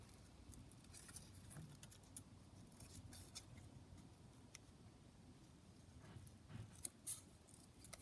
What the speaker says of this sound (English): I'll just cut out this bottle